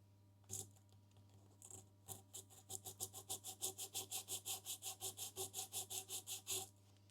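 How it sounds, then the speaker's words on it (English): Coarse sandpaper rubbed rapidly back and forth on a guitar body to scrub off traces of old glue, a steady run of about twenty close, rhythmic rasping strokes after a few scattered scrapes. "the best I could find was a bit of sandpaper that really is a bit too coarse for this"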